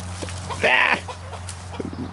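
A ranch chicken, chased by a cat, lets out one loud squawking burst followed by a few softer clucks, close by over a low steady hum.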